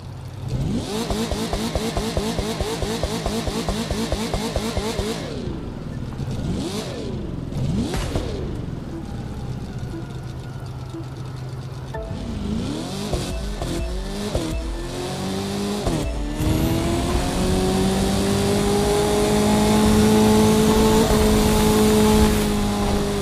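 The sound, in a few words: car engine in drag race event, The Crew 2 video game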